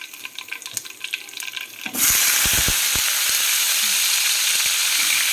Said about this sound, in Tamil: ஒரு பேனில் எண்ணெய் விட்டு அதில் உளுந்தம்பருப்பு,